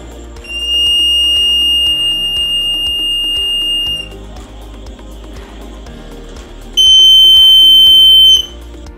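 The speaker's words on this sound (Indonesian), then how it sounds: "ketika kedua ujung kabel dicelupkan ke air asin, buzzer akan berbunyi nyaring." An electric buzzer powered by a battery, its cable ends dipped in salt water, sounds loudly in a steady piercing tone, stops, then gives a shorter second loud burst, with quieter humming between.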